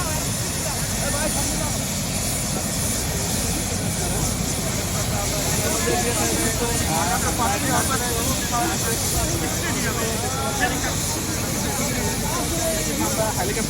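Helicopter arriving in Tangail, a continuous heavy rotor and engine roar at close range, loud and steady throughout, mixed with excited voices and crowd babble.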